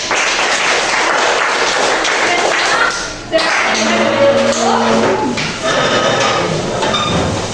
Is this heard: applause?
yes